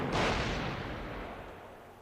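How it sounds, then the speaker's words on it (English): A single loud explosion from the fighting game Persona 4 Arena, a sharp broadband boom that bursts at once and then rumbles and fades over two seconds. "Suddenly, there's an explosion so loud I think my eardrums are blown out"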